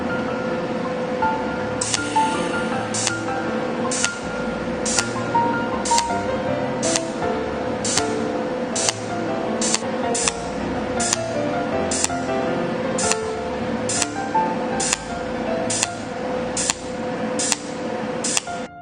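A cold welding machine spot welding 0.4 mm stainless steel plate, heard as a regular series of sharp, bright clicks or snaps about once per second over a constant close electrical hum.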